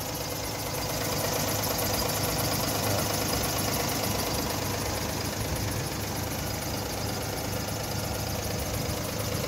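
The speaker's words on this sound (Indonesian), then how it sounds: "Suara mesinnya masih garing." A used car's engine idles steadily and loudly, with a constant close-up drone and light knocking rhythm throughout, and no voices over it.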